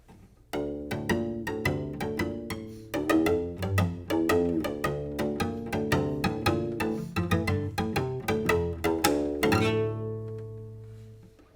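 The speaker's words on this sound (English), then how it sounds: "you can use the wooden part and tap it on the strings. And this is called colegno." Dry, clicking taps of wood against cello strings in a quick, steady pattern, pitched notes ringing faintly beneath each percussive strike, no voices.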